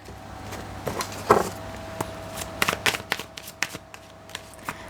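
Tarot cards being shuffled by hand, a series of quiet riffling flutters and soft slaps in uneven bursts, close and fairly faint, with no talking.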